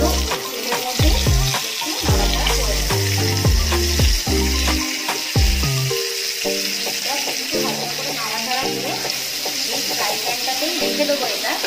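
Onions and capsicum frying in oil left from browning chicken for a Bengali-style dopiaza, a close, steady sizzle with clattering, rhythmic thumps and scraping from stirring through the first half, softening later.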